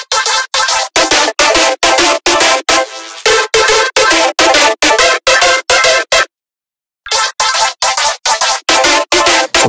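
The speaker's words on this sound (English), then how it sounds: "Adding a frequency shifter for the nice wobbly movement and cutting the low frequencies." A wide synth lead with a wobbling frequency-shifter movement and its lows cut stabs out in fast rhythmic bursts, loud and upfront, with one short gap and a longer dropout before the pattern resumes; no voices.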